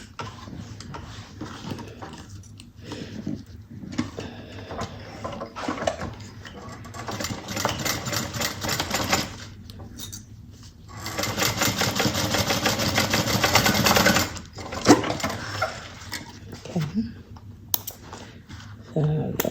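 Sewing machine stitching bag bottom pieces together: a steady mechanical hum with a long continuous run of fast rattling stitches, preceded by shorter bursts and handling noise, close by, with a voice talking at times.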